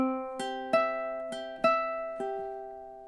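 Ukulele finger-picking the first measure of a song: about six plucked notes in an even, unhurried rhythm, each ringing and decaying, soft and close with no voice.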